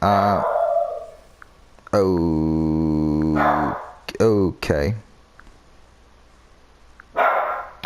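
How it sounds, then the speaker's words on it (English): A dog barks indoors, giving a long sustained howling bark followed by a few sharp, quick barks and one more short bark near the end, with a brief spoken word in between. "My dog just started barking out of nowhere,"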